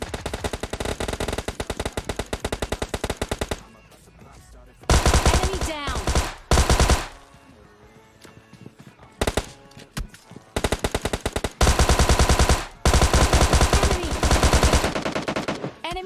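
Rapid automatic gunfire in bursts from PUBG Lite, loud and close, with short pauses between volleys and quieter stretches of shooting in between.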